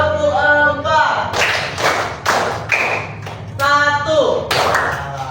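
Classroom students clap together in short bursts during a counting game, loud group claps and thuds separated by brief pauses, with a teacher's voice heard between them.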